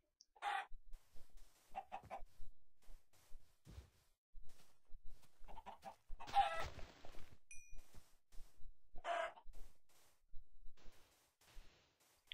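Minecraft chickens cluck in short bursts, several separate calls spread across the stretch over soft game background noise, with no talk.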